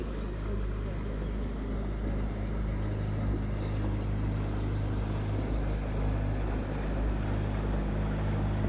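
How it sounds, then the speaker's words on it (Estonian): A motorboat passing on the Emajõgi river makes a continuous low motor drone, steady and moderately distant under wind noise for the whole stretch. "Läheb paat mööda siis."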